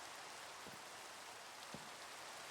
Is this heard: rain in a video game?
yes